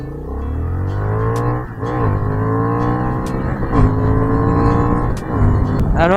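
A restricted A2 Honda Hornet 750 motorcycle accelerates hard from 0 to 100 km/h. The loud engine climbs in pitch through several gears, with brief dips at each shift.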